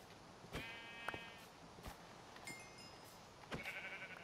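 Sheep bleats from the video game Minecraft, a few short faint calls spaced apart in a quiet scene, with no talking.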